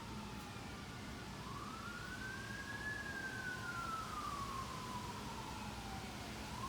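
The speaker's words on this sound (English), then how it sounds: "I'm not sure if that's picking up the ambulance and fire trucks and stuff." Ambulance and fire truck sirens wail from about a block away, one long rising-and-falling tone sweeping slowly up and back down, faint and distant over a steady low city rumble.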